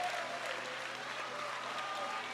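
Steady applause with cheering from an audience at a female expert flatland BMX final, dense continuous clapping throughout at a fairly even level.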